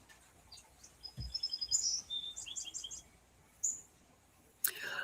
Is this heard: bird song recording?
yes